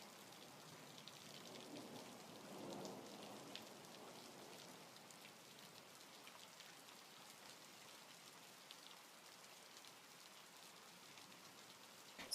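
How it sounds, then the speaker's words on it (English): Recorded rain of a thunderstorm, a soft, steady patter on a surface with a faint low rumble early on, continuous and quiet throughout. "This is not authentic thunderstorm sounds."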